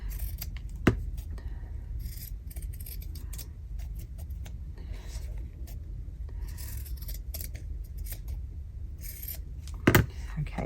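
Scissors snip around a handmade paper craft tag, giving soft, close cuts over a low background rumble, with a couple of sharper clicks and handling noises and no talk.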